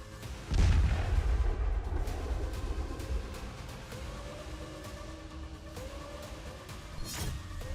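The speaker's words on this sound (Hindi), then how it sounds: "पूर्वी यूक्रेन में रूसी आर्मी आग बरसा रही है।" Russian army artillery fires in eastern Ukraine, one heavy deep boom near the start rolling into a long rumble, then a fainter second report later, with no talk over it.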